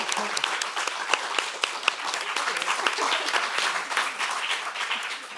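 Audience at a VegMed 2023 event on cooking in education claps loudly, with dense overlapping hand claps and sharp individual slaps standing out, sustained at full strength and easing slightly at the end.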